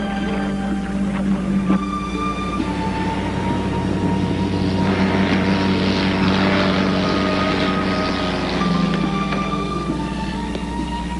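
The engine of a Cessna light aircraft drones on steadily in flight, a loud, continuous propeller hum with a low tonal buzz that holds throughout without breaks, and no voices.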